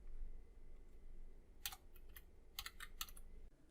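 Typing on a computer keyboard while writing Flutter code: quick clusters of crisp keystrokes in short bursts with pauses between, close and clear against a quiet room.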